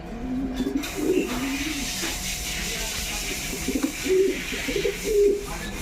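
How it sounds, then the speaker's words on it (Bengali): Soft cooing of Kashmiri racer pigeons repeats in short low phrases, with a steady background hum and faint voices nearby. "কাশ্মীরি রেশার রেশার কবুতর দেখতে পাচ্ছেন"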